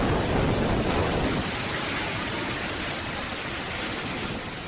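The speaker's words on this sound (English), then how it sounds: "Typhoon Kompasu brings strong winds and heavy rain to southern China" Typhoon Kompasu's strong wind and heavy rain over southern China make a loud, continuous roaring hiss that eases slightly toward the end, with no voices.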